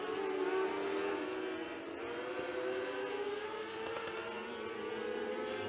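600 micro sprint cars racing around Gas City I-69 Speedway during a heat race, a continuous distant engine drone that rises and falls in pitch as the cars circle the track.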